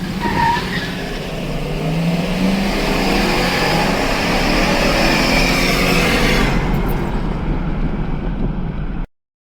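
A pickup truck engine roars steadily, revving through gear changes with a loud, continuous drone that cuts off abruptly near the end.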